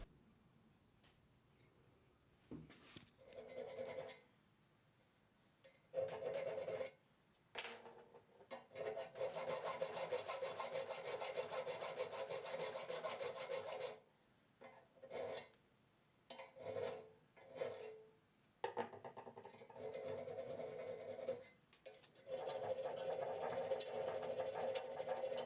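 Hand files rasp back and forth against a steel knife tang clamped in a filing jig, squaring the shoulders in long rhythmic strokes with brief pauses between bursts, close and harsh with no speech.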